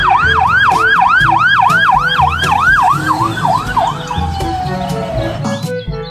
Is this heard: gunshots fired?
no